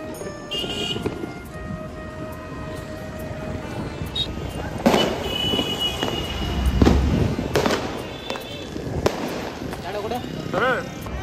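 Diwali firecrackers go off outdoors in a small town, a string of sharp bangs and crackles at irregular intervals, some close and loud, with people talking and calling out between the blasts.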